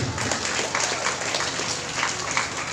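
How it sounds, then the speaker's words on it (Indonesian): Steady, dense clapping from an audience applauding the children at a Syarikat Islam anniversary gathering in Batang, sustained and fairly loud throughout with no clear pauses. "Tepuk tangan untuk anak-anak kita"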